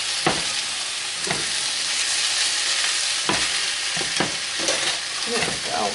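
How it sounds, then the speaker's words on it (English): Corned beef stirred into fried cabbage and onions in a pan: a dense, steady sizzle broken by several scraping strokes of a spoon, close and loud, with nobody speaking. "my cabbage and onions are all done. And I'm going to add my"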